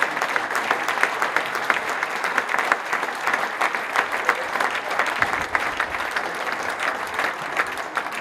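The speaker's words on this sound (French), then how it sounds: "Pendant ce temps-là, vous allez l'applaudir, bien sûr, comme il se doit." A crowd applauds steadily at a roller skating federation awards ceremony as a European silver medalist is called to the stage, dense even clapping throughout.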